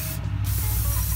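A short, close hiss of brake cleaner sprayed onto engine parts from a Honda B17 engine teardown, one continuous burst lasting about a second.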